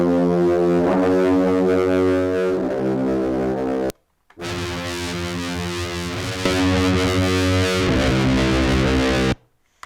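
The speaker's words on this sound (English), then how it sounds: "You can make something really dark with this if you put the right distortion" A heavily distorted synth bass drones with a gritty, buzzing tone, cutting out briefly before returning louder and harsher, then stopping abruptly.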